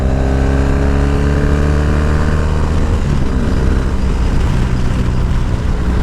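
Continuous engine drone from a Triumph T-100 motorcycle while riding, a loud steady hum with rising harmonic tones as it accelerates, mixed with wind rush and no talking.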